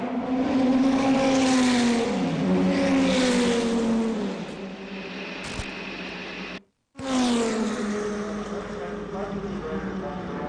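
A Mercedes race car at the Le Mans 24-hour race rejoining the track, its engine revving loudly and climbing through gears close by, with a brief cut partway, under a commentator's voice.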